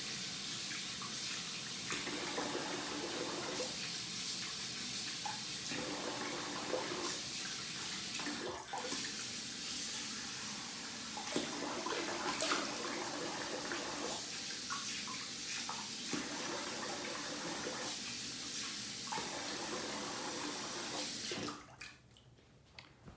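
Tap water runs steadily into a sink for a long stretch while a man wets his face during a double-edge razor shave, with faint splashing and handling noises, then cuts off near the end.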